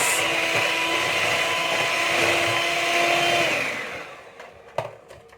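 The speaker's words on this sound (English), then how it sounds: "So I've put my bananas. I'm giving it a good mix." Bananas are whirred in an electric mixer for a raw banana cake, a loud steady motor drone that winds down after about four seconds, followed by a few clacks and taps.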